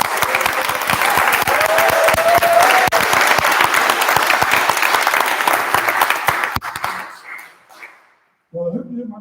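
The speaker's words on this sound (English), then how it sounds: "So I want a really big cheer from all the learners for all that you've achieved while you've been here." Learners at an annual awards celebration break into loud, sustained applause and cheering from a large crowd in a hall, dense clapping filling the room for several seconds before tapering off into quiet and a brief voice.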